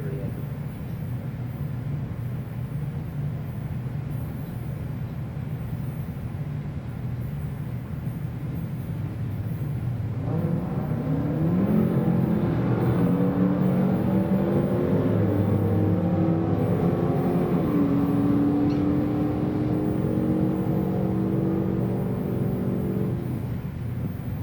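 At a Wednesday night drag race, a 1940 Chevy and a 2016 Hellcat launch down the strip, engines roaring up through rising pitches at a distance over steady background noise.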